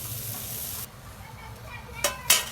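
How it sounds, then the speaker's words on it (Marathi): Steady hiss of onion roasting in a pan for Marathi khar vang, a constant sizzle that drops away abruptly, leaving a quieter background broken by a couple of sharp clatters near the end. "कांदा भाजून घ्यायचा आहे."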